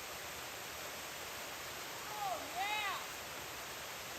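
Falling Water Cascade on the Blue Ridge Parkway pours as a steady, soft broadband rush, with a brief whistle-like voice sound in the middle.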